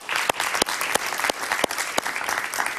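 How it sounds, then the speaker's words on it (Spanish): An audience applauds on a Spanish-language television talk show, steady close clapping with occasional sharp individual claps standing out, sustained throughout without talk. "Yo pido un aplauso para este señor."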